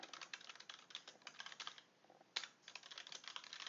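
Rapid typing on a computer keyboard, a steady run of quiet, close key clicks with one brief pause and a slightly louder keystroke before the typing resumes, with no voice.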